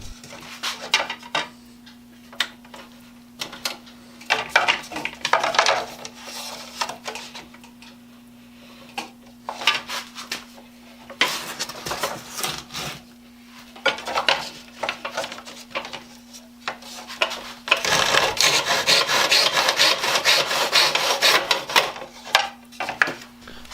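A saw squaring the ends of wood trim for a bird house: bursts of rasping, scratchy cutting strokes separated by quieter handling clicks, with a longer, denser stretch of sawing near the end over a faint steady hum.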